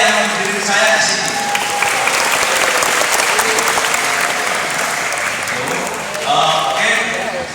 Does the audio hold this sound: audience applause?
yes